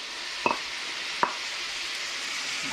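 Sausage and a full yellow onion fry together in a pan with a soft, even sizzle, broken by a few sharp clacks of a utensil against the pan, spaced about a second apart. No talking.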